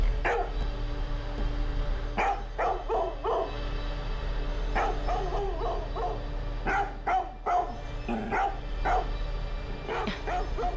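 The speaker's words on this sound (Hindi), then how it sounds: "आज ये टेसी बहुत भौंक रहा है" A dog barks repeatedly in short clustered bursts with some yips and whimpers, fairly close, over a steady low background hum.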